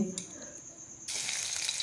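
Oil poured into a hot kadhai on the stove for fried rice lets out a sudden steady sizzle that starts partway through, close and loud after a quieter stretch.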